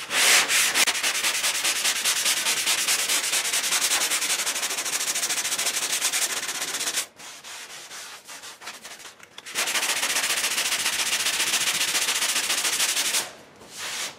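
Sanding block rubbed over body filler on a car body panel, loud close rasping strokes in a fast steady rhythm, with two short pauses between bursts of scraping.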